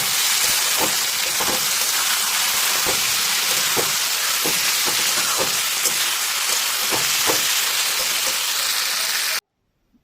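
Chopped tomatoes with ginger, garlic and salt fry in a pan for an egg tarka, giving a loud, steady sizzling hiss broken by occasional sharp pops or stirring ticks, with no voices, before it cuts off abruptly.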